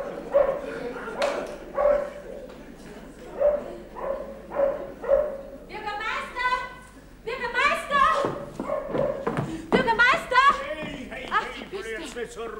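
Dog barks in a farmyard setting, a series of evenly spaced woofs followed by livelier yips and whimpers, with people talking over and between them.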